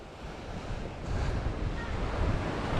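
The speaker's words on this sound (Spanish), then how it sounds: "Os dejo un poquito el sonido del mar." Sea waves break and wash onto a beach at Playa del Carmen, a steady broadband surf roar that swells louder after the first second, with wind buffeting the microphone and no voices.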